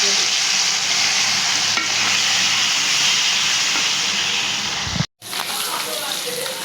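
Puti fish fries in hot oil in a kadai, a continuous loud hissing sizzle with faint crackles that cuts out abruptly near the end, then resumes.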